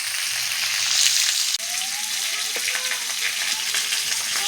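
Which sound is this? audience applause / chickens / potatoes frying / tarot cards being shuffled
potatoes frying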